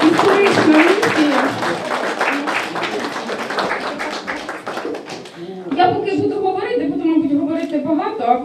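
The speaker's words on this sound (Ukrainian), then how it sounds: "Під бурні оплески" Lively audience clapping at the opening of an art plein-air event, a dense patter running beneath loud speech before easing as talking continues.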